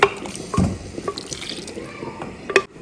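Water splashes and trickles into a blender, with drips and small sloshes, close by and fairly loud, no talking.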